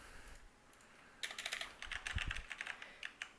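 Quick bursts of typing on a computer keyboard, close and crisp, with a pause before an uneven run of key clicks and a few final taps, no voices.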